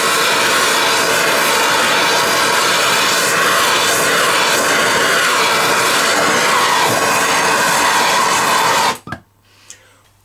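Torch flame scorching a turned wooden piece in a woodturning shop, a loud steady roaring hiss that holds for about nine seconds and then cuts off abruptly, leaving near silence.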